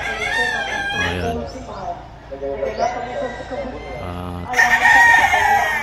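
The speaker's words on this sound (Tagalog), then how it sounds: "maingay tilaok na mga manok" Roosters crow near a mountain lodging house, several loud calls rising over continuous talk and a running vehicle warming up.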